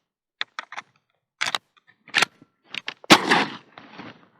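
Sharp, separate shots from a pump-action shotgun ring out one after another in short bursts, loud and close, with brief silences between them and a longer echoing blast near the end.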